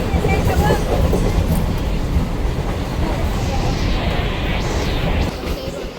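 Train running on rails as it approaches Vasai station, a loud steady rumble and rattle of wheels and carriages heard from on board, easing slightly toward the end with a faint squeal.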